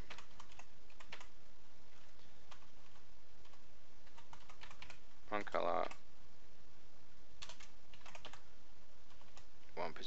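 Bursts of close computer keyboard typing entering an item description, rapid clicking keystrokes in clusters with pauses, while a person talks throughout.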